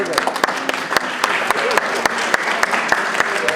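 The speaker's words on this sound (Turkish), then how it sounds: "Evet amcamızı bir alkışlayalım." A crowd applauds at an art exhibition: steady, fairly loud clapping with individual sharp claps standing out, close by, with no talk over it.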